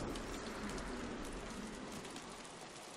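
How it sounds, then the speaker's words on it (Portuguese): Steady rain pours in the Don't Starve Shipwrecked video game, a dense, even hiss of drops with a faint low rumble underneath, continuous for the whole stretch with no voices. "Bom, tá chovendo."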